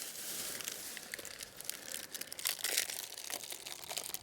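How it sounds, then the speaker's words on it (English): A plastic bag crinkles and crumples close by in soft, irregular rustles and crackles, with no talking. "put my plastic bag right here to throw all my rubbish away on the window"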